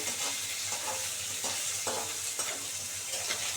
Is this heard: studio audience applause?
no